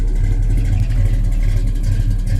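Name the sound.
1969 Plymouth Road Runner engine through dual exhaust headers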